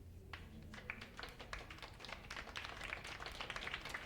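Quiet, steady clapping from a small crowd in a video game, a dense patter of hand claps that carries on throughout at an even level.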